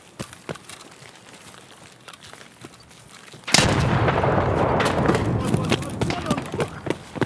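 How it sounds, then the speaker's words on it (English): An explosion in a video game erupts suddenly midway, after sparse shots and quiet talk, leaving a loud sustained roar of noise and rumble with further cracks and voices over it. "Should I throw a grenade by the tanker?"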